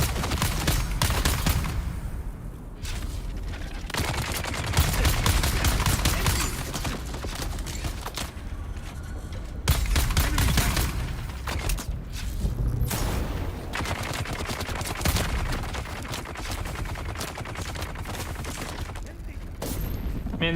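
Rapid bursts of gunfire from a Dune: Awakening combat fight, dense and continuous volleys with mechanical clatter, close and loud throughout, with voices talking over the shooting at times.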